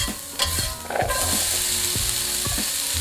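Garlic fries in a hot skillet with a loud, continuous sizzle. Soft clicks of stirring recur every second or so over a low background hum.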